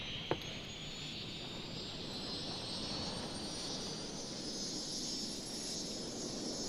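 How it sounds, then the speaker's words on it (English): Aircraft at the two airports in the Cities: Skylines game roar continuously with a broad, steady jet-engine rush and a faint high whine, one brief click near the start and no voices. "it has the 2 airports, which is the most noisy place in the entire game, as you'll be able to hear right here"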